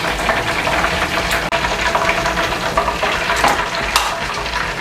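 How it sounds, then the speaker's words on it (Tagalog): Pork pata deep fries in hot oil, filling the space with a loud, close, continuous crackling sizzle and occasional sharper pops, with no talking. "prituin natin siya ulit"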